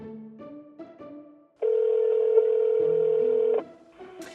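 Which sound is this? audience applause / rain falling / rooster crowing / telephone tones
telephone tones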